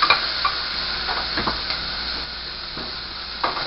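Ingredients for a low-carb burgundy beef stew are stirred and mashed in a pot of seasoned broth, giving a soft, steady sizzle with scraping and stirring bursts close by.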